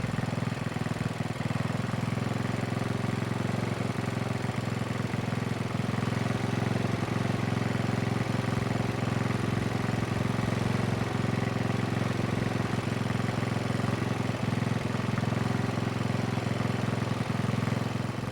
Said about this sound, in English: the engine down to idle and allow the engine to catch up